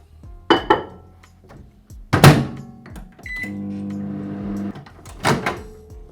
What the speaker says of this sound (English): So now we'll put it in the microwave.